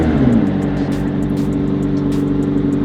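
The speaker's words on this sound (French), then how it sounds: "on va maintenant démarrer la voiture et profiter ensuite du son de l'échappement" McLaren 720S with the performance exhaust fires up and idles loudly, a deep steady rumble after a brief rising flare at the start.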